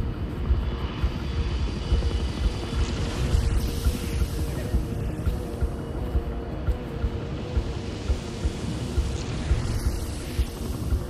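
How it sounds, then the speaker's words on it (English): A helicopter in the Spider-Man 2 video game gives off a steady, loud, low rotor rumble with a rapid rhythmic chop that runs throughout, with no talking. "I hear a chopper."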